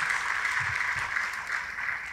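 A church congregation applauds, a steady wash of clapping heard at a moderate distance that stays even throughout, with no talking over it.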